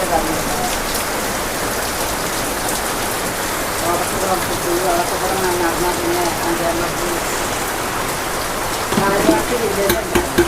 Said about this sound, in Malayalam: എന്താ ഈ മഴ പെയ്ത് പിന്നെ